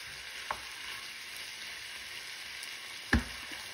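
Mushrooms and mixed vegetables for chop suey get stirred in a pan: a soft, steady sizzle runs throughout, with two brief utensil knocks against the pan, the second one louder.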